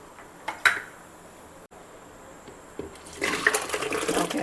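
Soaked dry fruits and their soaking water are poured into a juicer jar, with a soft clink at the start and a rising, splashing pour that builds over the last second and a half.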